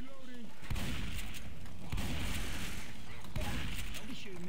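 Dense, sustained gunfire in the video game Left 4 Dead 2, rapid overlapping shots filling the whole stretch with bursts swelling at intervals, loud and close, with voices talking under it.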